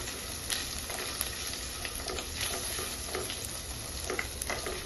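Hing, turmeric and cumin powder roast in a hot pan while a spoon stirs them, making a steady close sizzle broken by light scraping strokes, with no one speaking.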